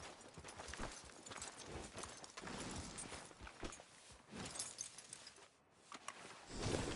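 Horse hooves clip-clop in the video game Red Dead Redemption 2, a brisk walking rhythm of soft hoof strikes running throughout among other game sounds and ambience.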